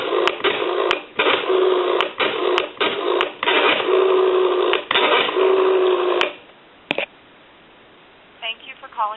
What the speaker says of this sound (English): There's some dial tone.